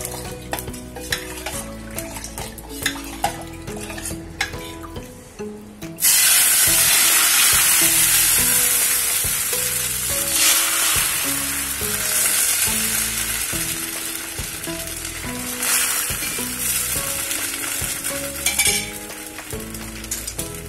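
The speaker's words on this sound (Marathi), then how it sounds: "म्हणून मी फ्राय पॅन वरती टाकते आपल्याला घावण" Thin rice flour ghavan batter hits a hot frying pan with a sudden loud sizzle. Before it, a background tone and light utensil clinks are heard. The frying hiss stays strong and steady, with occasional scraping.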